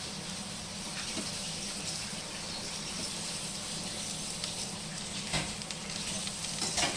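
String hopper (idiyappam) upma fries in a pan as it is stirred. A steady, soft sizzle runs throughout, with occasional scraping and clinking of the spoon against the pan, close by and without talking.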